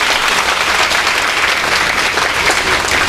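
Loud, dense applause fills a school program hall from a large audience. It stays steady and continuous throughout, with no break and no talking.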